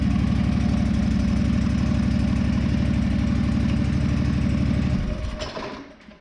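John Deere 425 lawn tractor engine idling after reassembly, a steady close thrumming chug that holds evenly for about five seconds, then dies away as the engine shuts off.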